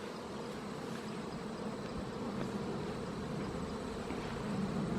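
Honeybees buzzing around a beehive entrance during a hive inspection, a steady, fairly quiet drone of many wings that holds through the clip and swells slightly toward the end.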